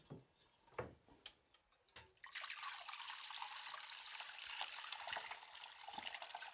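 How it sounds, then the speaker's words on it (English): Bone broth is ladled through a fine sieve with a few knocks and small splashes, then a steady trickling, pouring stream of liquid runs continuously, close and fairly quiet. "So I'm just going to start ladling through a fine sieve."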